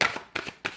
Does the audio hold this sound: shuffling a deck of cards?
yes